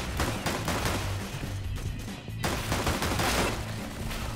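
Rapid bursts of gunfire from a Counter-Strike match crackle continuously and loudly, with dense overlapping shots and only a short lull midway.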